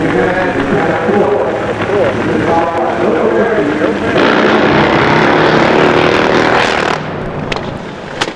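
A Harley V-Twin 3,500 cc nitro-burning drag bike at an AMA Prostar championship roars loudly and continuously at close range, building into a harsher blast midway before tailing off.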